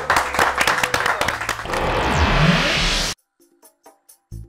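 Audience applause welcoming clowns at a children's show, a dense burst of clapping lasting about three seconds before cutting off to near silence with faint sounds.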